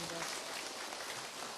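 An audience at a Korean citizens' lecture gives steady, dense applause, a close wash of clapping that continues evenly throughout without a break.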